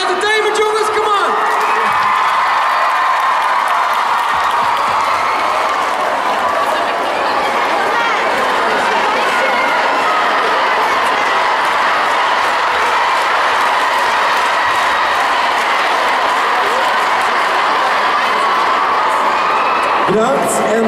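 Loud, sustained applause and cheering from a large crowd at a Dutch live entertainment show, with whoops and chatter mixed in, running steadily for about twenty seconds before cutting off.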